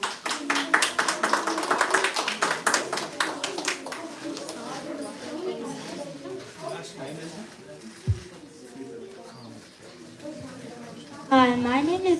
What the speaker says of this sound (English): let's welcome Adya with a huge round of applause